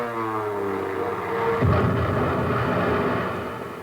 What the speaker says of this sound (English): there's the first one now, coming in for a bomb run